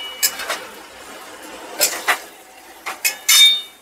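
A spoon scrapes and clinks against a pan while fried pointed gourd is stirred together with poppy seed paste, giving a handful of sharp metallic taps in small irregular clusters, close and clear over near silence.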